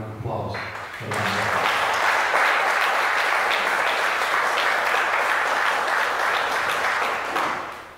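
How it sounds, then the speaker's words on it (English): After a brief moment of voice, a crowd breaks into sustained applause for firefighters, a broad wash of clapping that stays loud and even before tapering at the end. "I want you to give a real round of applause for them"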